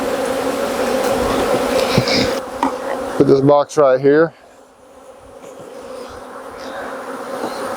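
A dense, steady drone of many honey bees buzzing around a hive being split, briefly interrupted by a person speaking, then the buzzing continues more faintly.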